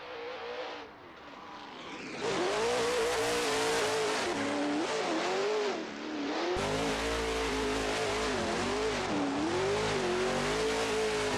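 A big-bodied Ford Mustang drift car launches on the Jeddah track, engine revving hard into a loud sustained roar with rising and falling pitch, tires squealing as it slides, alone without voices.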